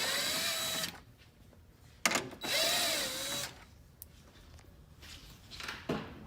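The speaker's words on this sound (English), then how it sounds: "you'll use a 10mm socket to remove the screws" A power tool whirs in short bursts, backing screws off the grille of a 3rd gen Toyota Tacoma with a 10mm socket, with two main runs and quieter clicks between them.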